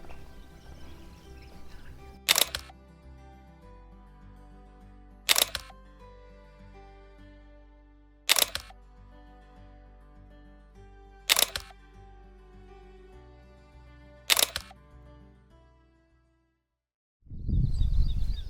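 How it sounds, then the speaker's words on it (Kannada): A camera shutter fires five times at slow, even intervals of about three seconds, crisp and close, over a quiet hum, ending in a burst of rustling. "ಅಲ್ಲಿವರೆಗೂ ಬೇರೆ ಫೋಟೋಸ್ನ ತೆಗೆದುಬಿಡ್ತೀನಿ."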